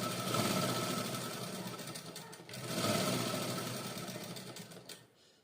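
Sewing machine stitching a size 42 blouse, running the lining and main fabric together while both are pulled taut; a steady close mechanical whir with a brief dip midway, then stopping near the end.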